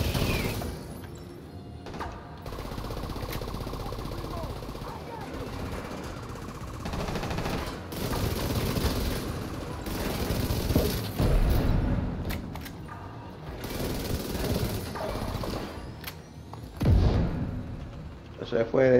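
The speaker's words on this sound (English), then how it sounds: "Bro, they're shooting me up here" Tom Clancy's The Division 2 firefight with sustained automatic gunfire and heavy thuds continuing for the whole stretch, while players talk over the shooting.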